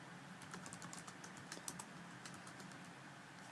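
Rapid typing on a computer keyboard fills the moment, a quiet steady patter of key clicks with a few louder taps and no talk.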